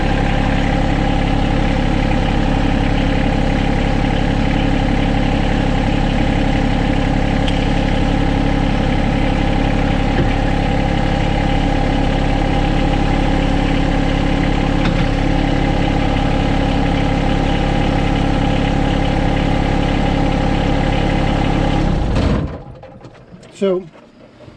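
A John Deere X758 lawn tractor engine idles loud and steady with a constant low drone for over twenty seconds, then cuts off abruptly near the end, leaving a couple of faint clunks.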